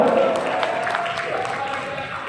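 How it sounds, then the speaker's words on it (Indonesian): Applause from a seated audience at a community gathering of residents in Batuaji, a steady wash of clapping that holds through the clip with a voice audible over it. "Tepuk tangan untuk Pak Luis."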